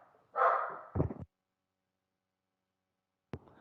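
Pet dogs indoors let out a couple of sharp barks in quick succession, followed after a silent pause by one more short bark, close and fairly loud.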